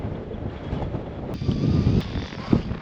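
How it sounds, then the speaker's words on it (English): Strong wind at a hill summit camp, gusting 20 to 25 mph, roaring and buffeting against the microphone in loud, uneven surges with a couple of sharp knocks. "Right, we've got the wind blowing a steady 20 to 25, gusting slightly over that."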